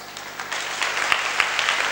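Congregation clapping during a Hindi sermon in church, a broad crowd applause that swells after a quieter start, with a few sharper individual claps standing out.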